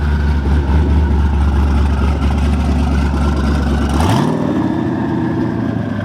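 A twin-turbo Z28 race car engine rumbles loudly at a deep idle for about four seconds, then the throttle blips and the revs climb sharply before settling into a higher drone, with no one talking.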